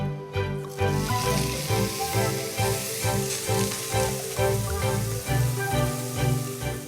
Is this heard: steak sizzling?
yes